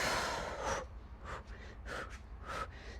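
Slow breaths pushed out during a guided breathing exercise, several soft airy exhales and sniffs spaced across a few seconds, close to the microphone with no talking.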